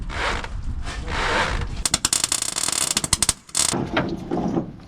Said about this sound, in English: Hey, will you turn the steering wheel?